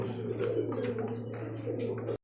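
Pigeons coo in a Bangladeshi sale coop: close, continuous throaty rolling coos that swell and fade for a couple of seconds, then stop abruptly.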